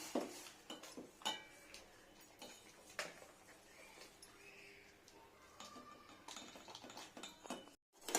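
Milk with sugar and milk powder being stirred in a pan as it thickens into condensed milk, with intermittent metallic spoon scrapes and clinks against the pan, close and sparse with quiet gaps.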